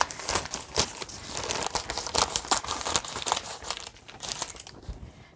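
Close, crackly crinkling and tearing of a plastic compost bag being cut open with scissors, in irregular bursts that taper off toward the end.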